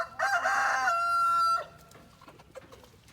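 A rescued backyard chicken crows loudly in one sustained call lasting over a second, then softer scattered clucks and faint hen sounds follow close by.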